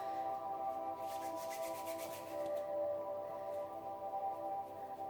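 Hands rub firmly over knuckles during a hemp massage, making a steady close soft friction sound that continues evenly throughout.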